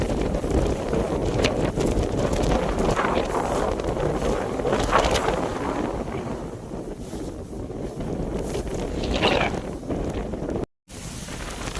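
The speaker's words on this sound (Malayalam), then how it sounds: "ഇവിടെയൊക്കെ ഭയങ്കരമായ നല്ല കാറ്റ് കേട്ടോ" Strong wind on open grassland in the Ponmudi hills, Kerala, roars and buffets the microphone steadily, with gusts rising and falling in a rough, constant rush.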